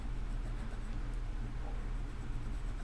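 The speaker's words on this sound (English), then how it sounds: "So let me go ahead and erase some of this." Writing is erased from a board with steady, continuous rubbing strokes, a soft scratchy friction noise that carries on close by without pause.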